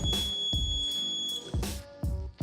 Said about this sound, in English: the motor turns off and the buzzer turns on.